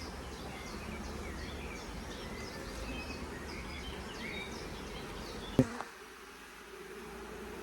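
A dense, steady hum of many honeybees buzzing close by inside a hive box, continuous and fairly quiet, ending with a sharp knock before the buzz drops lower.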